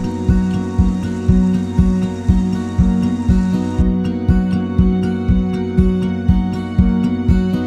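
Steady rainfall at a Catskills trout stream in autumn, a dense continuous patter with a regular rhythmic tapping running through it, loud and close, with no voices.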